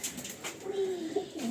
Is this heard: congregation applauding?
no